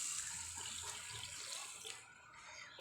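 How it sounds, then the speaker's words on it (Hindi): Lentils dipped and swished in a bowl of water, a steady close splashing and trickling wash that fades near the end. "ऐसे हम इसको पानी में डिप कर दें"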